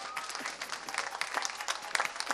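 Applause for a family receiving the first prize at an Italian awards event, a steady crowd clapping throughout the short stretch at moderate loudness.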